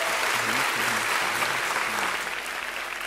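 A studio audience on a Turkish television talk show applauds a band with steady, dense clapping, loud and close, for about three seconds, with no voices over it.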